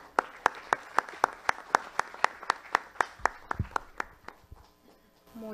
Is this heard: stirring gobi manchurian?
no